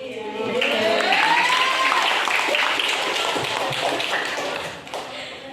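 Audience applause at a student presentation session: steady, dense clapping from a crowd that stays loud throughout, with a faint whistle-like tone near the start, then thins out slightly at the end.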